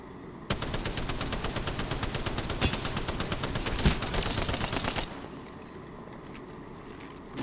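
Rapid automatic gunfire in the Apex Legends battle royale game, a dense sustained burst of shots lasting several seconds up close, then cutting off to quieter game ambience.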